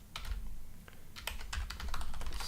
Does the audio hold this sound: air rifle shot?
no